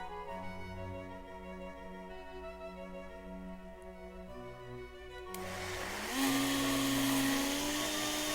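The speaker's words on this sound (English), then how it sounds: "Then transfer the soup in your blender. We're gonna puree the soup." A blender whirs steadily while pureeing vegetable soup, starting with a lower motor hum and then rising to a louder, higher whine near the end, with no voices.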